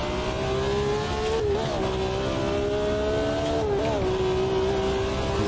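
A car drives laps at normal speed, its engine droning steadily from inside with brief dips and rises in pitch as the driver shifts or lifts off, loud and continuous.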